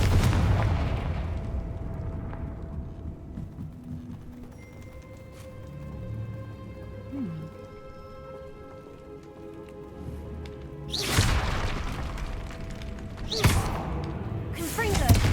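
In Hogwarts Legacy, Confringo fire spells go off as two sharp, loud blasts close together near the end. Before them come a quieter stretch of softer thuds and fading ambient game tones.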